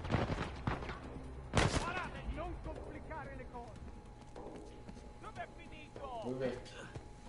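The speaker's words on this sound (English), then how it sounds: "I'm being shot at." Gunfire in the video game Uncharted 4: a loud burst of shots near the start, with further scattered reports, while voices talk throughout.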